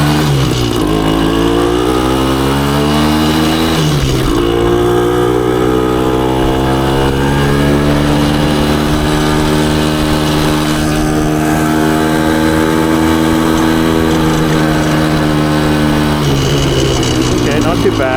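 Yamaha MT250 motorcycle engine, freshly overhauled, pulling up a hill, with steady revving that rises and shifts through the gears; a voice is heard over the continuous engine drone.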